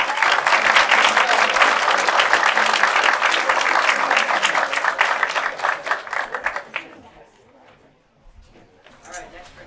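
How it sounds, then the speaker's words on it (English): Troop members and families at a Boy Scout Court of Honor clap loudly and steadily for several seconds, then the applause fades out into near quiet with a few stray claps and a voice. "Let's give everybody a round of applause here."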